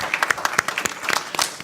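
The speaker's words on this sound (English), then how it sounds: "Can you give her a round of applause?" A brief burst of scattered hand clapping from a small audience, uneven and quickly fading.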